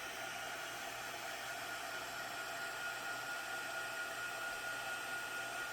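A heat tool warms a craft die, blowing a steady, faint airy whoosh like a small hair dryer, constant and unbroken with no voices.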